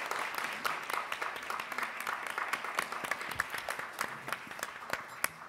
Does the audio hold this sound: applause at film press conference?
yes